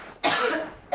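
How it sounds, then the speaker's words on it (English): A single harsh cough bursts out close and loud after a brief quiet pause, followed by the start of another cough. "I have like cough attacks"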